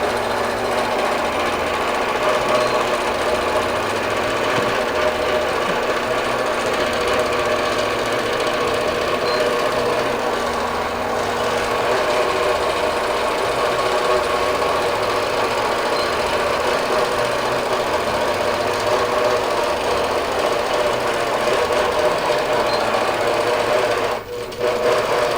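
A computer-guided Quilt Path quilting sewing machine stitches across a quilt, a loud, steady, rapid mechanical chatter running without pause, briefly dipping near the end.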